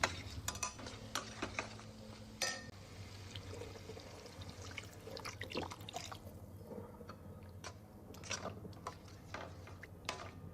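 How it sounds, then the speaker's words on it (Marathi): Water poured into a fish curry pan in a home kitchen, heard as faint trickling and splashing along with scattered drips and light clinks of utensils against the pan. "मी 2 ग्लास पाणी ऍड करते."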